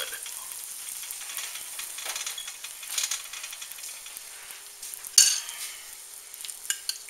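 Butter topping spooned over biscuit-wrapped meatballs in a pan, soft scraping and spoon clinks over a steady faint sizzle, with a sharp metallic tap near the end.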